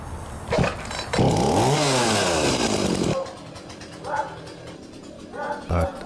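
A chainsaw trimming backyard tree branches revs loudly for a couple of seconds, its pitch rising and falling, then cuts out, followed by a few faint thumps and a dog's whimpering.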